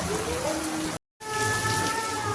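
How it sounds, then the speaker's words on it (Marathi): Heavy rain pours down steadily as a dense, continuous hiss during a Dahi Handi festival gathering, broken by a brief silent gap, with faint tonal sounds in the background. "तर मित्रांनो खूप पाऊस चालू आहे"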